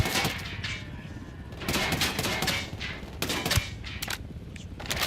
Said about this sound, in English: You can hear the rounds hitting because it makes like a wet thud sound.